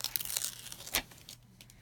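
Adhesive backing peeled off an embossed card panel made with a Kaiser Craft Flourish 5x7 embossing folder, heard as a close, crackly tearing rip with a sharp burst near the middle, fading to quieter crinkles.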